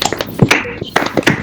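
A group of participants claps their hands together in an online teaching session, giving a short burst of scattered, uneven claps up close, with no talking.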